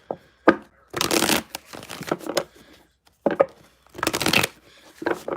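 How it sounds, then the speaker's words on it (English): A tarot card deck being shuffled by hand, several short riffling bursts separated by pauses, close and clear with no talking. "when I picked up the deck to shuffle, this card fell out"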